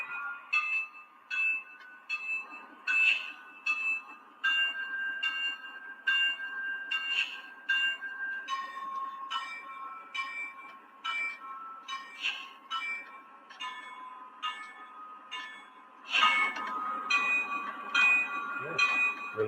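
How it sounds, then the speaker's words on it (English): Locomotive bell from a Legacy GP20 model train sound system, a latching bell with several pitch levels, ringing in a steady repeated clang that shifts pitch partway, with someone talking underneath. "I'm going to run through the bell as well"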